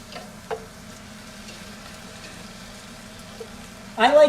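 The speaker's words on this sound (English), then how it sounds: "I got 2 cups of milk here. Just going to slowly whisk this in." Milk slowly whisked into a chicken and kale casserole sauce in a pan, a soft, steady stirring and faint sizzling texture with a couple of light clinks and a louder scrape at the end.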